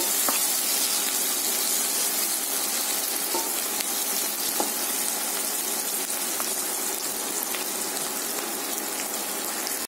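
Steady frying hiss from a pan as mango dal is cooked, a dense close crackle with occasional small pops running unbroken, no voices.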